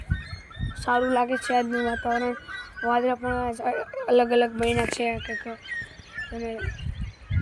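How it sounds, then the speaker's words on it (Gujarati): Birds calling outdoors, with repeated harmonic clucking, crowing-like calls, under and between a person talking about the weather. "પક્ષીનો કલરવ છે"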